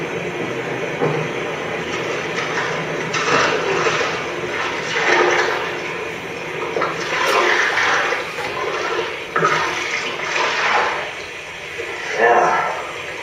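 Water draining out of a hull with a steady rushing, gurgling flow that swells and surges unevenly over several seconds, loud and close, with voices speaking over it.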